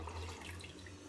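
Water streams steadily into a pot of dried beans for a traditional Asturian fabada, a brief, soft, continuous splashing pour without voices.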